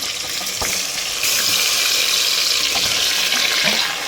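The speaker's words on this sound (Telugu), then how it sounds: "ఆయిల్ అనేది హీట్ ఎక్కింది కాబట్టి మనం ఇందులో చికెన్ అనేది మెల్లమెల్లగా" Chicken pieces go into hot oil and set off a loud, close, continuous crackling sizzle that swells as more pieces drop in, with no talking.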